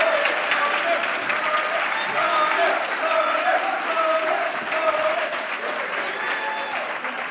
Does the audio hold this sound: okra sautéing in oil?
no